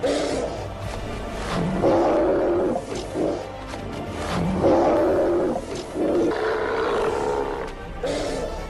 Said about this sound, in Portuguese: Hostis e possivelmente letais leões marinhos.